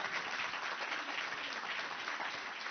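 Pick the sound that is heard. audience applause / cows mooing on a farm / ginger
audience applause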